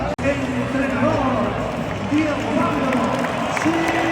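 Stadium crowd at Atletico Madrid roaring and chanting for manager Simeone, a dense, loud, sustained mass of voices with rising sung chant tones, a nearby voice also audible in the mix.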